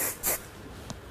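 Hairspray hisses onto hair set in rollers in two short bursts, the second a touch stronger, followed by a faint rustle and a brief tap, close by with no talking.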